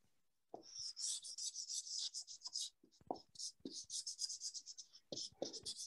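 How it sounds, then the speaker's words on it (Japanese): An oil-based marker pen colors on paper in an animation studio, its tip squeaking and rasping in quick repeated strokes with short pauses, close and fairly quiet, with soft incidental handling sounds. "So next is the coloring using this kind of oil-based marker pens."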